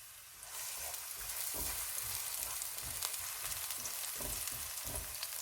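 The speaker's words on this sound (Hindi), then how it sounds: "ऑयल गर्म हो गया, इसमें ग्रीन प्याज का वाइट पार्ट डालेंगे। इसको 1 मिनट तक भूनेंगे।" The white part of a green onion drops into hot oil in a pan and bursts into a loud, steady sizzle, with occasional stirring clinks and pops over the constant frying hiss.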